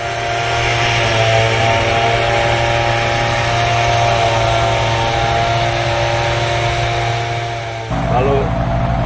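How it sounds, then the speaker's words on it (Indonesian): A motorized tea plucking machine cuts leaves on a tea plantation in Dempo, Pagar Alam, South Sumatra, its small engine droning loud and steady up close, with a brief dip and change in tone near the end. "Kegiatan memetik tidak lagi dilakukan secara manual menggunakan tangan, namun menggunakan bantuan mesin pemotong teh."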